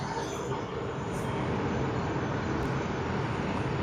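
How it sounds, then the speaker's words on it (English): A Cathay Pacific Airbus A350 roars down the runway at Sydney Airport on its takeoff roll, a loud, broad, continuous engine rush that holds steady throughout. "The awesome A350 of Cathay Pacific now on its takeoff roll"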